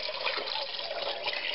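Water pours steadily into a pot of partially frozen lamb broth for a Somali lamb soup, a continuous close splashing rush that stays even and unbroken throughout.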